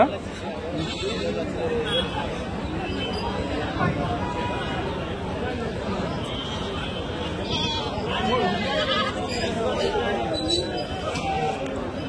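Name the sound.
goats bleating at livestock market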